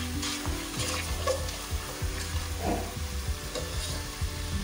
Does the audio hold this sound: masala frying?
yes